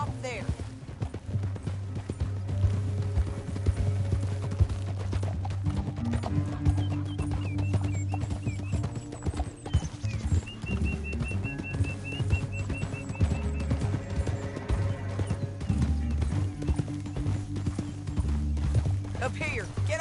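Steady galloping horse hoofbeats from Red Dead Redemption, a continuous rhythmic clatter under background music with occasional voices.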